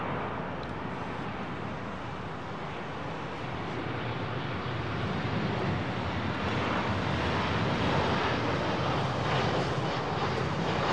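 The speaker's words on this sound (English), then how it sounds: "KLM 737, becoming quite a rare aircraft these days to see at Heathrow" A KLM Boeing 737 at London Heathrow gives off a loud, steady broadband jet roar that holds unbroken for the whole stretch, with no voices.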